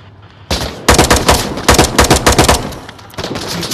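Gunfire in the Fortnite video game: a sharp onset, then a rapid burst of loud, close shots in quick succession, tapering off and followed by a few more shots, with no voices.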